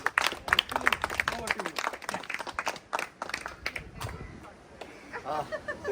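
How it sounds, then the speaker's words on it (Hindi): An audience breaks into applause at a felicitation for a Comrades Marathon 2025 champion runner, a burst of close clapping that swells, thins, then picks up again, with a voice speaking over it. "तो जोरदार तालियां पहले श्री के लिए।"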